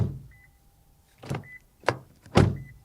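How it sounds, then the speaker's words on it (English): A 2020 Toyota C-HR Hybrid car door closing, heard up close as a few separate solid thumps and latching clicks over a faint electronic tone, with no talking. "Then you can also open it again and hear the door closing sound."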